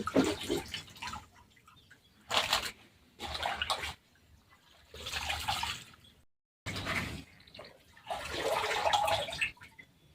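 Potato slices for wafers being washed and swished in a basin of water, giving several bursts of splashing and sloshing separated by brief pauses, close and moderately loud with no talking.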